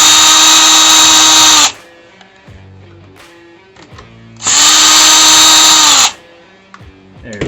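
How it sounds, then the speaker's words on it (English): A power drill backs out the two screws of a door deadbolt, whining loudly in two sustained bursts of about two seconds each. Quiet handling clicks fill the gap between them. "there's two screws right here. We're just gonna remove those."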